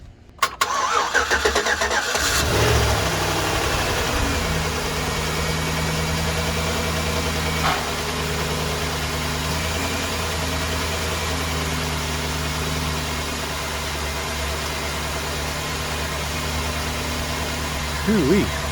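A 2009 Chevy Silverado engine cranks and catches after a couple of seconds, then settles into a steady, close idle with a constant low hum that holds for the rest of the clip.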